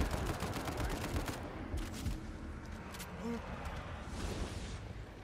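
An enemy shooting in a video game makes a dense, continuous crackle of gunfire that runs across the whole stretch, with game noise and talk mixed in.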